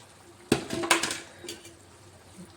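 Eggplant pieces with salt and chili powder stirred in a pot, giving a few close clanks and scrapes of a utensil against the vessel in a short burst, then fading quiet.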